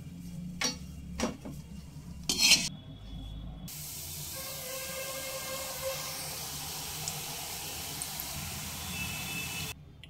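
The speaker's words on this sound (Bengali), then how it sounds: "গাঁঠিয়াগুলো আমি ক্রিস্পি করে ভেজে নিয়েছি" Gathiya batter fries in oil over a low flame for homemade chanachur. A few knocks and clatters come first, then a steady, soft hiss of sizzling continues to the end.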